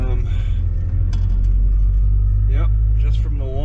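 A car drives at low speed near a Walmart in Temple, Texas, its engine rumbling steadily and loudly from inside the cabin while a person talks over it.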